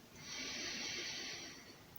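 A single slow, airy exhalation during a guided yoga breathing exercise, soft and close, swelling and fading over about two seconds with no talk.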